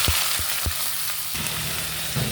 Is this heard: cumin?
yes